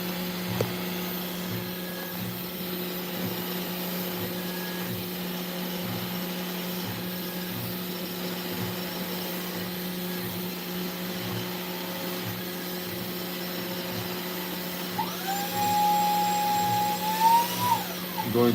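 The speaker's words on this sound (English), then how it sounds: "so I can vacuum here the dust." A vacuum cleaner runs with a steady whirring hum, pulsing faintly in a regular rhythm as it sucks up gypsum dust from CNC carving. A rising whine with louder rattling comes near the end.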